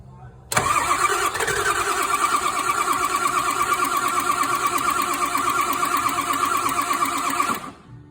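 A starter cranks the engine of a 1957 Ford F600 truck: a sudden loud, steady whirring grind that runs for about seven seconds and then cuts off, with no catch.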